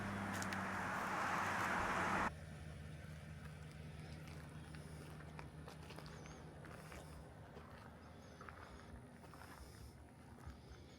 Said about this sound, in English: You can hear my engine running.